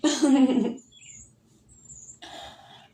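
Cardinals give a few faint, thin whistled calls at a distance, following a short burst of a person talking at the start.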